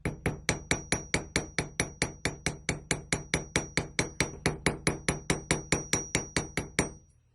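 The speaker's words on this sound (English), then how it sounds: "I don't know that I have done any riveting with this hammer, but I do love texturing with it." A texturing hammer strikes a hardware store washer about twenty-five times in a fast, even rhythm, each metallic tap ringing briefly before the next, then the blows stop and the ring fades out.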